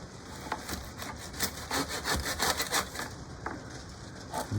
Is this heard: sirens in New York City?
no